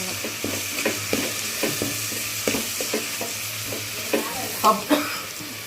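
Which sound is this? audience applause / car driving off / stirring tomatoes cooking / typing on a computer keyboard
stirring tomatoes cooking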